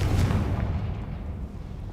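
A Confringo fire spell explodes in Hogwarts Legacy, a single loud booming burst that rolls off and fades over about two seconds.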